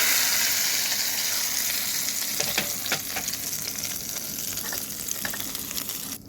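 A tempering of black cumin seeds and green chili sizzles in hot oil, a dense continuous crackling hiss with scattered sharper pops and spatters, close and steady throughout.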